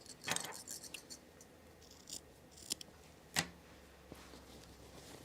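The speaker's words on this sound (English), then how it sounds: "I'm going to trim down this seam allowance right here." Scissors trimming a fabric seam allowance on a dress, a few quiet crisp snips spaced irregularly, close by in an otherwise hushed room.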